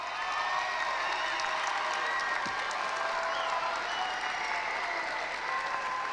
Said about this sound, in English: Everyone, let's give a round of applause to our graduates, the class of 2021